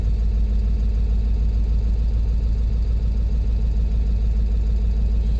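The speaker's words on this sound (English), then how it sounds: "you heard how it idled up?" A 7.3 Powerstroke diesel truck engine idles with a constant low, throbbing rumble, loud and close, holding steady throughout.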